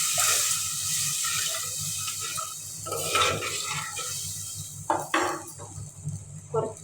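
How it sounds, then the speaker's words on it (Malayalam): A cup of water poured into a pan of Kerala-style tuna curry with soaked kudampuli, a steady close splashing pour with a few utensil knocks toward the end. "ഒരു കപ്പ് വെള്ളവും കൂടി ചേർക്കാം."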